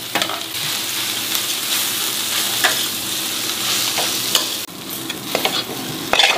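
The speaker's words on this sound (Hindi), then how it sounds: "धनिया, प्याज और हरी मिर्च, इसको थोड़ा सा फ्राई कर रही हूँ" Coriander, chopped onion and green chilli fry in a pan while being stirred, a steady close sizzle with occasional scraping clicks of the spoon and no talking.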